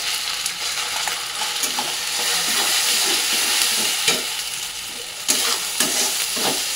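A paste of green peas, chana dal, green chilli and salt frying in a hot pan, a loud, dense close sizzle with occasional scraping knocks of a spatula against the pan, steady throughout and free of talk.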